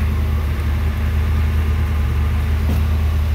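Old diesel engine idling shortly after a cold start on a freezing 26°F Missouri morning, a loud, steady low rumble close by with no talk.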